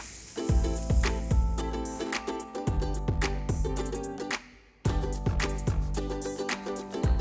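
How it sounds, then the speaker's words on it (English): Soya chunks, baby corn and bell pepper stir-fried in a hot pan, a loud steady sizzle broken by repeated scraping tosses of a spatula, with a brief lull before the frying picks up again. "Let's quickly stir fry all of this."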